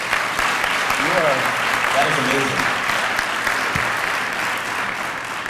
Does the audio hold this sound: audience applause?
yes